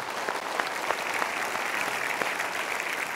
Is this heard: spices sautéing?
no